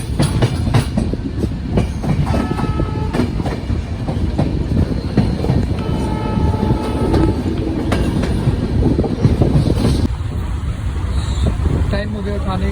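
Howrah Barmer Superfast Express pulling out of Loharu Junction station in Haryana, a loud continuous rumble of wheels and carriages with rhythmic clatter and faint voices around the platform.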